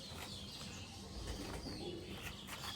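Giribaz pigeons coo softly and faintly, with a few low murmuring calls and some wing rustle beneath a hissy, quiet background.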